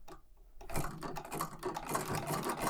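Franklin treadle sewing machine stitching quilt pieces with a quarter-inch seam, a steady, fast mechanical clatter of rapid needle strokes running close and continuous after a brief quiet start.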